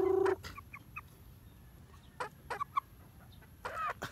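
Sweater breed chickens cluck in short, scattered bursts, with a louder call at the very start and a few nearby clucks spaced across a quiet farmyard background.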